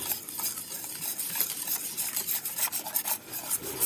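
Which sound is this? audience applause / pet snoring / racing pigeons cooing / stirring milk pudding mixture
stirring milk pudding mixture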